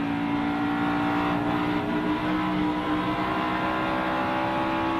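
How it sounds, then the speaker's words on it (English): A NASCAR Winston Cup race car engine drones loud and steady. Its sustained roar eases slightly as the driver lifts off the throttle, with no talk over it. "He starts to get a little bit loose. He's got to lift up out of the throttle a little bit."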